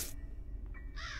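A bird caws in the Granny video game, two short harsh calls at the start and end with a low hum between them.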